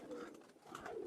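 A Banaras pigeon coos in a soft, low, burbling call at close range, quiet and brief, with a slight swell near the end.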